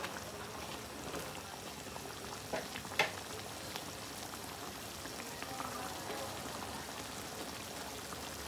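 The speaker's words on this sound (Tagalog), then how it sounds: "kapag kumukulong-kulo na yung gata" Coconut milk boiling in a pot, a faint steady bubbling and simmering hiss with an occasional soft clink, quiet and continuous.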